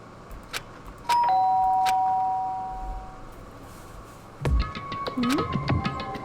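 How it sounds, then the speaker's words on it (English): Doorbell ringing in the video game Danganronpa: Trigger Happy Havoc, a clear sustained chime tone near the start, followed later by other game sounds and voice-like noises. "did I hear the doorbell?"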